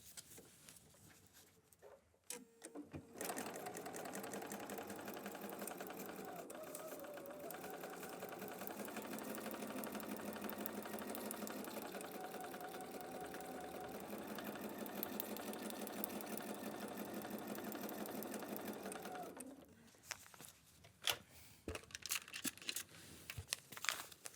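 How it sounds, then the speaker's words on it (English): A sewing machine stitches fabric for foundation paper piecing in one steady, continuous run of about sixteen seconds, close and even, followed by a few rustles and clicks of the paper and fabric being handled. "let's just go sew"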